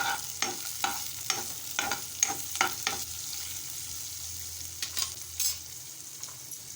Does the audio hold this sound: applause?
no